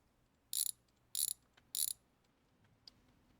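A car's wheel bolts are worked loose to take the wheel off, producing three short, bright ratcheting bursts at even intervals, close and crisp, followed by a faint click.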